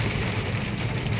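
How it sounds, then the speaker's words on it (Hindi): Heavy rain pours steadily, a dense continuous hiss and patter close by with low rumble beneath, heard while driving through waterlogged streets. "पर बारिश तेज है"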